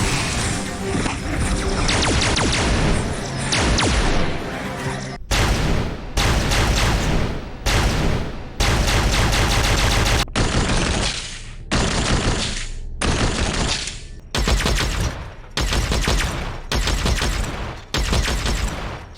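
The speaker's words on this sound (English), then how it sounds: "the Particle Carbine and the Piercer both have new firing sounds" Particle Carbine and Piercer weapons firing in a video game, loud rapid bursts in a long series of close shots separated by short gaps, with no talk.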